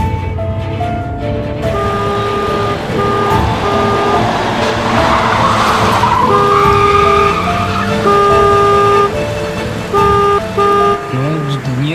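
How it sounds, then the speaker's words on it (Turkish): A car overtakes on the road, heard loudly from inside a vehicle as a rushing engine and tyre noise with bright horn-like tones, while people talk over it. "Niye solladı hakikaten bizi öyle o?"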